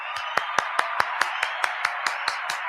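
Steady rhythmic clapping, about a dozen crisp claps at an even pace, moderately close and fairly quiet against a low background hiss.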